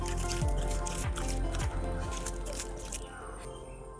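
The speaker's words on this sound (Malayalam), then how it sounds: "വെള്ളം നനച്ചു കൊടുക്കുക." Water poured from a container onto soil in a pot holding a freshly planted eggplant, with a steady wet splashing and squishing that runs through the whole four seconds and tapers slightly toward the end.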